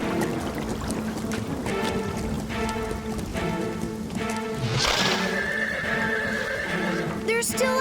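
Cartoon horses whinny and neigh while hooves clip-clop in a steady rhythm, with rain falling around them and a musical score underneath.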